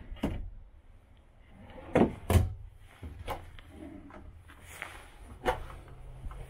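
Several drawers in a 2021 Jayco Alante 27A motorhome slide and bump shut in quick succession, with sharp knocks and scraping rolls, close by and fairly loud.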